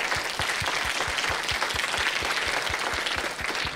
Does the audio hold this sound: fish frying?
no